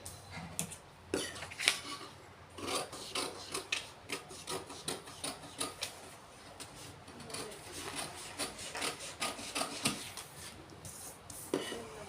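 Scissors cut blouse fabric for a princess-cut panel on a boat-neck blouse, making close, quiet, repeated rasping snips and rubbing strokes in an uneven rhythm, with no talking.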